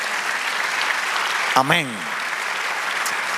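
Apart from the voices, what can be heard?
congregation applauding in church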